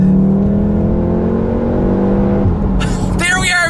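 A 2019 VW Golf R Mk7.5 accelerating hard onto a motorway, a loud steady engine drone rising in pitch, then a quick gear change and renewed climb, heard from inside the car.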